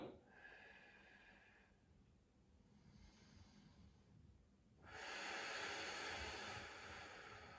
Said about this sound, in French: J'inspire, je reviens. J'expire.